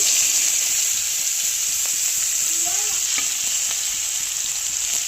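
Chopped onion and nigella seeds fry in hot oil left over from frying fish, giving a loud, continuous close sizzle with occasional stirring clicks and no talk.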